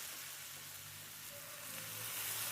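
Spice paste with turmeric and salt sizzles in a pan after a little water is added for a Bengali egg curry, a steady, quiet frying hiss that builds slightly toward the end.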